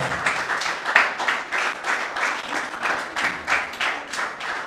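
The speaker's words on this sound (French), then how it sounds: "On acclame encore" A TV studio audience applauds for the last candidate on a children's eloquence contest show, with steady dense clapping for the whole stretch and a few louder swells.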